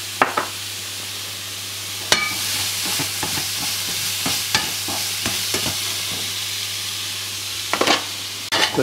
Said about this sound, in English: keep the pumpkin moving around so it doesn't stick to the bottom of your wok